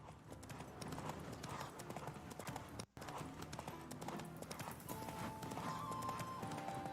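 Galloping horse hooves clip-clopping steadily in The Witcher video game, loud and continuous with a whinny-like tone mixed in, briefly cut by a short gap midway.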